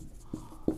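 Two short chalk or marker strokes on a classroom board during a Hindi chemistry lesson, the second stroke louder and closer than the first, with quiet room tone between them.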